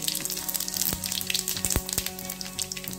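Mustard and cumin seeds sizzling in hot oil for buttermilk kadhi, a dense close crackle with rapid popping and spattering bursts throughout, with no voices over it.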